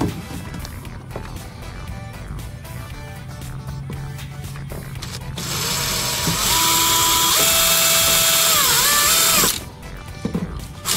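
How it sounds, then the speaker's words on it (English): A power drill whirs in bursts against the metal body of a 1956 VW Beetle, then runs loud and steady with a rising, shifting whine before cutting off abruptly. "it's about that time to drill into this beautiful body once again"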